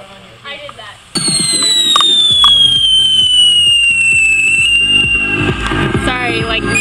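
A firework shrieks with a long, loud whistling scream that slides slowly downward, joined by crackling and popping, after a brief quieter stretch at the start.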